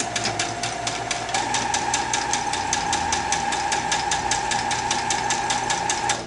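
A sewing machine stitches a layer of tulle for a drawstring skirt, its needle hammering in a fast, even rhythm close up with a steady motor whine underneath, no voices.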